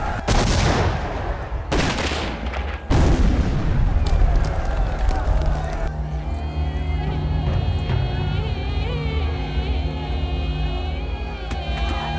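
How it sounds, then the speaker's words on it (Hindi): Action-movie gunfire erupts in a few loud, booming bursts at the start, then gives way to a sustained music score with a steady rumbling bed beneath. "दोनों तरफ से गोलीबारी जारी है"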